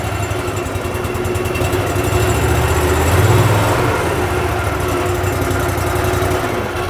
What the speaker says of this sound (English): this right here is a 27 horse Kohler motor